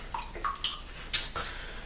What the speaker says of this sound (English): let me dump this water out of my brush here